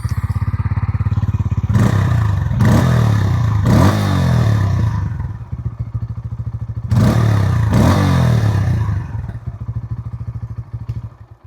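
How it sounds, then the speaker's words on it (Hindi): A 2025 Bajaj Pulsar N160 revs through its exhaust near the microphone, a deep bassy idle rumble broken by several sharp throttle blips that rise and fall, with clattery mechanical noise between bursts. "अभी मैं इसका एग्जॉस्ट साउंड में आपको सुना दूं।"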